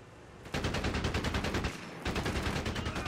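MG 42 machine gun in Company of Heroes 3 rattles off in two fast sustained bursts, loud and close, with a short gap between them and no talking.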